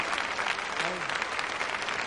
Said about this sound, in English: Applaudissez-la très très fort